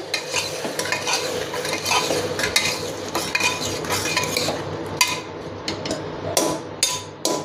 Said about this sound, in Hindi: एक बार मिक्स कर लेंगे